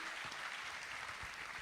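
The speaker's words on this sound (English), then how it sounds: "Let's give ourselves a huge round of applause for making it through all the ups and downs." Graduating business-school class at a university undergraduate ceremony applauding together, a steady, dense wash of clapping from a large hall crowd, evenly sustained throughout without pause.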